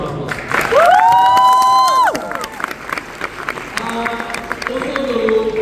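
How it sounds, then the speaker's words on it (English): A speech audience erupts in cheering, with a long rising whoop and shouts over clapping, then settles into a lighter crowd murmur and scattered applause. "so you can give her applause"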